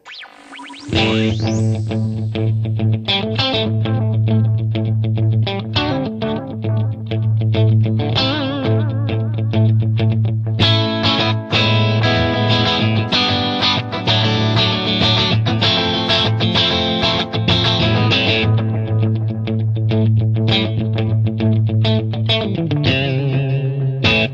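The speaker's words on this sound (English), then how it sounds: "Now let's hear the standard delay setting." Electric guitar played through an MXR M169 Carbon Copy analog delay pedal on its standard delay setting, a steady riff with repeating echoes trailing each note, sustained and loud throughout with no talking.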